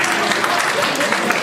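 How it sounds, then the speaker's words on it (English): A brief burst of dense audience clapping at a Superlife business talk in Nakuru, Kenya, steady and fairly loud for just over a second with no speech on top. "Clap for her."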